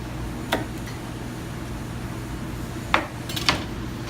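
A few sharp knife snips and clicks cut the face off soft-shell crabs, three brief isolated cuts over a quiet room hum.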